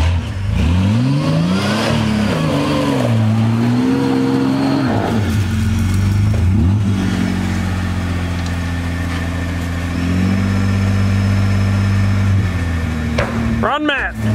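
Loud off-road race truck engines at a 4WD winch competition droning and revving continuously, rising and falling in pitch, with a sharp burst near the end.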